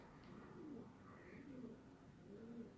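A pet bird, likely a pigeon or dove, gives soft low cooing phrases repeated several times, faint and partly buried in steady background noise.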